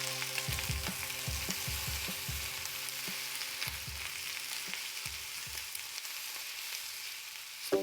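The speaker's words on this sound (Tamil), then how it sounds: "நல்லா கிளறி விட்டுக்கங்க" Chicken masala sizzling and frying in a pan, stirred with a series of scraping strokes in bursts over steady background hiss, close and moderately loud with no talking.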